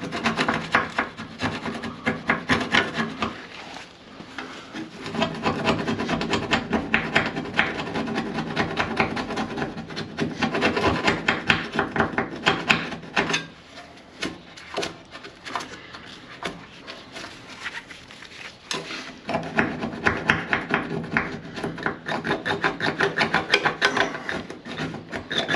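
Harsh continuous scraping and rasping of rust and loose paint under the passenger-side fender of a car, loud and close in uneven strokes with brief pauses, no voices.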